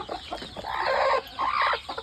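A hen in a brooding coop clucks close by in two drawn-out bursts, with a few short clucks and soft rustling before and after.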